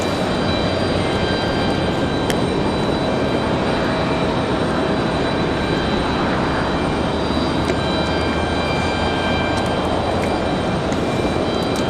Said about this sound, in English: She is piloting this 737-800. Going to be our next arrival.